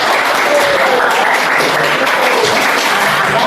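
Classroom applause from students, a dense, steady burst of many hands clapping close by that holds at an even loudness throughout, with no talking over it.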